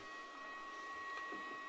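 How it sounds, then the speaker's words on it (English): A Makita 40-volt battery charger runs with its cooling fan, giving a faint, steady high-pitched electronic whine with a soft airy hiss and no voices. "sorry for the charger sound."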